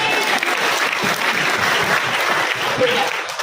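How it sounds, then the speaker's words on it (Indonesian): Church congregation applauding during a sermon: dense, continuous clapping from a crowd, loud and close, sustained evenly for several seconds. "Tepuk tangan, haleluya."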